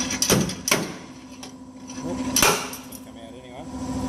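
A cheap slide hammer pulls a dent using a self-drilling screw, giving a few sharp metallic knocks and clacks spaced across a few seconds, with faint workshop clatter between them.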